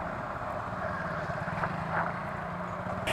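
A motorcycle engine runs rough on worn-out full synthetic oil, a steady close low drone with a gritty, uneven texture that holds throughout without change in pitch.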